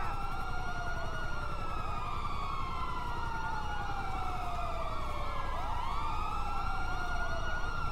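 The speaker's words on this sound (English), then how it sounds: "I left my siren on." Wailing police car siren from GTA 5 with the LSPDFR mod, loud and continuous, sweeping up and down in repeated cycles with a faint engine rumble beneath.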